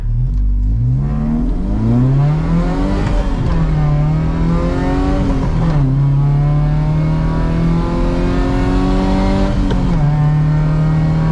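A 1988 Volvo 740 GLE accelerates hard toward top speed, its engine climbing steadily through the revs with shift breaks between rising pulls, loud and close from inside the car, with no talking.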